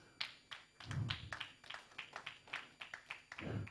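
Scattered hand claps from a church congregation at a sermon, sharp close taps in an uneven rhythm with a couple of duller thumps, fairly quiet with no talking.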